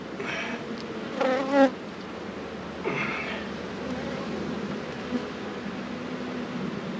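Agitated honeybees buzz around an opened hive during an inspection, a constant droning hum with a few louder close passes of individual bees flying near.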